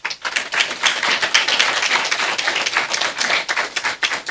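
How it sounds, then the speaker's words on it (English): Audience at a regional schools investment awards ceremony clapping for honorees, a lively burst of many hands with slightly uneven, rippling bursts that stay loud and close, no talking over it. "So a round of applause."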